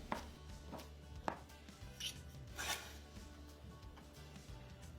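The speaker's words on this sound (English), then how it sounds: "first slice it into slices and then cut it into strips" Knife chopping mushrooms into slices and then strips for a shrimp egg drop soup, a series of sharp, close cuts against a board, irregular and fairly quiet, with no talking.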